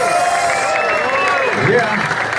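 A crowd claps and cheers for a DJ at a rap battle final, a continuous wash of applause under loud tonal music with sweeping pitch bends.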